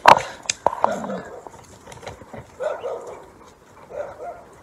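Dogs at a rescue kennel bark in sharp, loud bursts up close, followed by scattered quieter yips and whimpers with further barking in the background.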